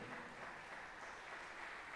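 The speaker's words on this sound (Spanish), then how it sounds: "Un aplauso a Jesucristo" A church congregation applauds in praise, a steady, even wash of clapping heard at a distance with no voices over it.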